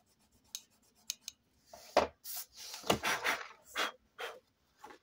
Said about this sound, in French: Je vais gommer ça parce que ça va me gêner pour la suite